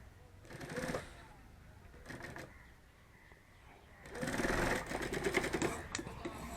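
Sewing machine stitching a bag seam in a bag-making workshop, with two bursts of fast mechanical chatter and a longer, louder run at the end, broken by quieter gaps.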